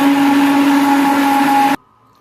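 Kitchen mixer-grinder blending chutney, a loud steady motorized whir that cuts off abruptly near the end, leaving near silence.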